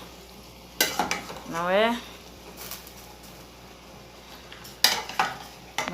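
Fish poured into a pot of Creole sauce and stirred, giving a brief sizzle and scraping clatter between sharp utensil knocks, with a short spoken word over it.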